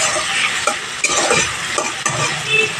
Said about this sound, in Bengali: এখানে হলুদ আর লবণ দিয়ে গ্যাসের ফ্লেমটা মিডিয়ামে রেখে আলুগুলো ভেজে নেব।